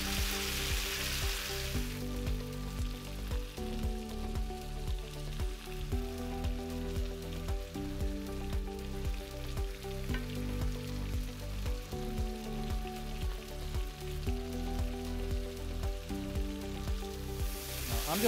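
Chicken pieces sizzle and fry in oil in a pan, a steady dense crackle running unbroken and fairly loud throughout, with no voices over it.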